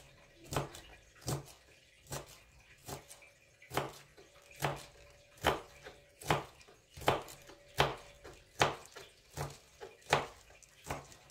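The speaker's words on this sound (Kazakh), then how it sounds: "Сосын осындай корейский капустаны да дәл осылай кубиктап турап шығасыздар." A knife chops Korean cabbage into cubes on a board, about fourteen crisp, evenly spaced cuts, close and clear with no talking.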